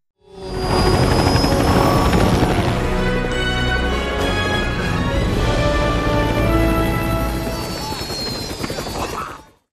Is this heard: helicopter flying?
yes